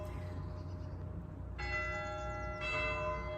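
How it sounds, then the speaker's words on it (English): A church bell strikes twice on the quarter hour, two clear ringing tones following a quiet start, each sustained and overlapping as it fades. "there's the bell."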